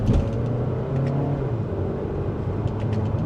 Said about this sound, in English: We're in second gear. Here we go.